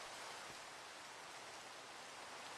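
Steady, faint rain hiss from a modded Minecraft game world, continuous broadband patter with no voices.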